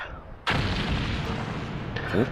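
A sudden loud explosion cuts in after a brief moment, followed by a sustained roaring rumble and a second burst near the end, in an anime scene.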